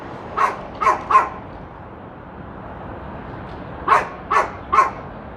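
A dog on a cold city street barks in two bursts of three sharp woofs, a pause between them, over steady outdoor traffic hum.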